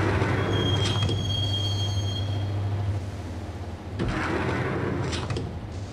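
A subway train from the video game Max Payne rumbles steadily while a thin metallic wheel squeal rings over it, then the rolling noise dips and swells again with rattling carriages.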